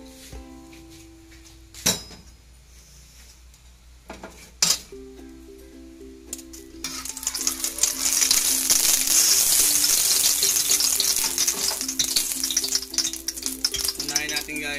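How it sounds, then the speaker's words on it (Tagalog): About two spoons of cooking oil heating in a pan for beef curry, starting with a few sharp clinks over a low hum and then building into a loud, steady sizzle and crackle, close up, with no talking. "Maglalagay tayo ng mantika, mga 2 kutsarang mantika lang."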